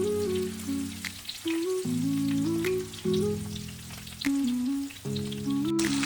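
Marinated mutton pieces fry in hot oil with a steady, close crackling sizzle that runs for the whole stretch, partly under a loud melodic music bed.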